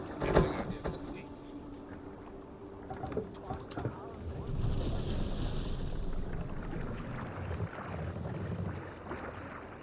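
A longship sails over waves in Assassin's Creed Valhalla, a steady wash of water and wind noise rolling along beneath a low hum, with a brief knock near the start and a fuller surge midway.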